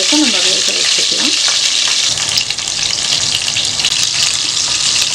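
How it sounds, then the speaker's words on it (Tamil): Chicken kola balls sizzle steadily in hot oil, a loud continuous frying hiss with a few brief stirring scrapes near the start. "இப்படியே வந்து எல்லா உருண்டையும் வந்து நம்ம வந்து ஃப்ரை பண்ணி எடுத்துக்கலாம்"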